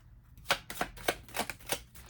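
Romance Angel oracle cards being shuffled by hand, a run of about six crisp riffling bursts at a steady rhythm, close and fairly loud, with no talking.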